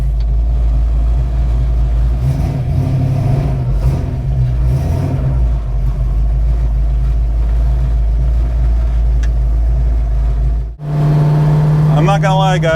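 Car with a 347 engine accelerating, a heavy rumbling drone with surges of revving that cuts out briefly near the end before the engine roars back, with a voice faintly over it at the close.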